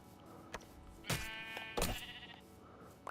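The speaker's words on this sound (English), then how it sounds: "actually I can go and kill this sheep" Sheep in the Minecraft video game letting out a few quick bleats, fairly faint, separated by short gaps with soft clicks around them and no talk.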